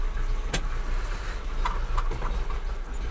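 A van rolls forward after its handbrake is released, a close, steady rumble of tyres and chassis with sharp clicks and creaks cutting through, no one speaking.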